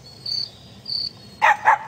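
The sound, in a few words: cricket chirping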